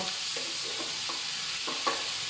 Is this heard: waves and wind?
no